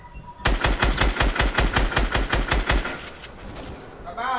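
Rapid automatic gunfire in a video game: a loud, steady burst of evenly spaced shots lasting about two and a half seconds, then a ringing tail and a brief electronic sound.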